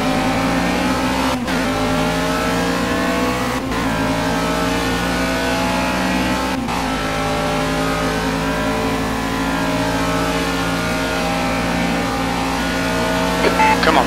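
Race cars lapping Bathurst in a sim racing game: a steady, loud, harmonic engine drone holds throughout, with sharp gear-change clicks and a brief rise in the final second.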